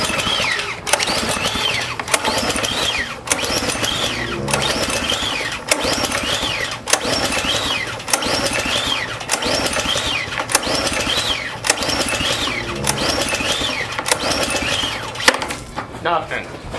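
Small gas engine treated with Seafoam fuel additive being pulled over repeatedly with switch on and choke out, a steady rhythm of cranking strokes about once a second that never catches, loud and close.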